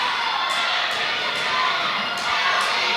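Wrestling crowd at a live pro wrestling show cheering and shouting continuously for a wrestler, a dense roar of voices with rising swells of excitement throughout.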